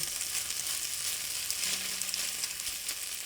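Spaghetti all'assassina frying and caramelizing in a pan, a loud, dense, continuous sizzle and crackle heard close up, with a faint brief scrape partway through and no talking.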